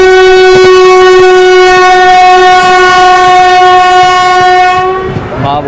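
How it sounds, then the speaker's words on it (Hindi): Loud, steady multi-tone horn of the Kalindi Express sounding close by for about five seconds as the train pulls into Aligarh Junction, then cutting off into station rumble. "126 किलोमीटर चलने के बाद हमारी ट्रेन पहुंच गई है अलीगढ़ जंक्शन पे"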